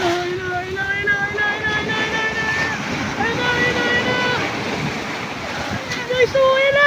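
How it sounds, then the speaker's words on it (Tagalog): Rushing ocean surf rolls in with wind buffeting the microphone, while faint voices carry in the background. "so malaking alon yun"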